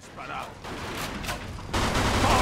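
Gunfire during a car chase in the Mafia 2 video game, a muffled rumbling stretch of shots that turns louder and harsher toward the end, with no clear speech.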